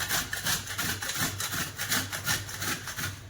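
Dried coconut rubbed quickly against a large grater makes a steady, rhythmic rasping of rapid back-and-forth strokes, loud and close, with no voices.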